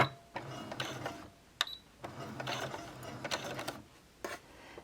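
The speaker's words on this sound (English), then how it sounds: "I'm going to start by doing a back stitch, so I'm going to hold down my back stitch button and go back a few stitches." Sewing machine stitching a felt carrying case in reverse, short mechanical whirring runs broken by clicks and pauses, close and fairly quiet.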